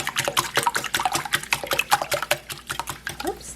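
A quiche mixture whisked briskly in a bowl, giving fast, close, rhythmic clicking and sloshing strokes that keep going throughout.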